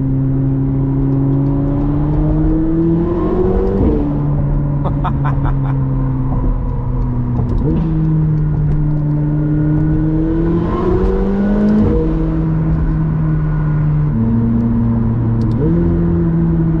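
A loud 850-horsepower supercar engine revs repeatedly, pitch climbing and dropping in several surges over a throaty idle, close to the listener.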